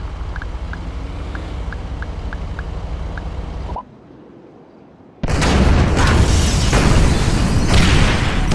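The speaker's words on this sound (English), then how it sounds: "Detonate the incendiaries, Frank." Incendiary explosives detonating in GTA V: after a steady rumble with faint beeps and a brief quiet gap, a loud, sustained burst of booming blasts and roaring fire follows.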